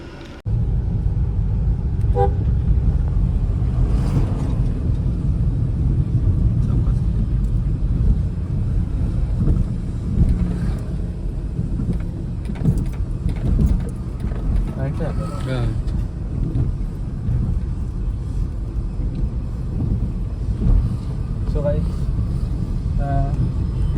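A car drives along a road, its engine and wind rumble steady and close throughout, with people talking over the drive.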